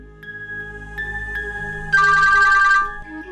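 A home telephone rings indoors in a drama scene, a steady electronic ringtone that swells loudest for about a second midway, then fades, with faint room tones underneath and no talking.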